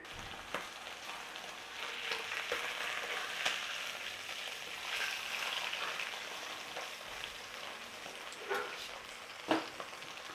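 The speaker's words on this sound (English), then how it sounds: "So we want a little bit of oil in there, and then we need to get our steak in there." Steak searing in hot oil in a pan for a Taiwanese black pepper steak, giving a steady, close sizzle and crackle that stays even, with a few sharper pops near the end and no talking.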